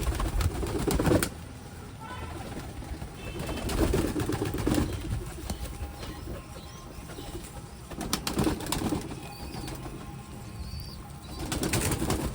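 Pigeons being fed wheat, a close flurry of flapping wings in several bursts with soft cooing between them, and a person's voice briefly in the background.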